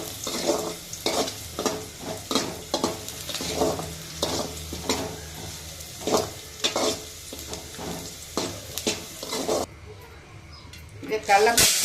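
Pirandai (adder's creeper) frying in a pan for chutney, with repeated scraping stirs of a spatula over a soft sizzle, close and rhythmic, before a quieter stretch and a final clatter.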